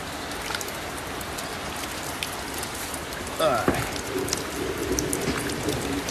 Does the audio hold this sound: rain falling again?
yes